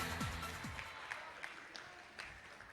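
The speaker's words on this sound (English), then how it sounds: "Give them a big round of applause, everybody." Applause from a seminar audience at a fashion runway event in Orlando, Florida, a moderate steady wash of clapping that runs for nearly three seconds with a few sharper claps standing out.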